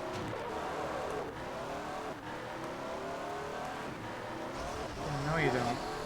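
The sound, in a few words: race car driving in a racing video game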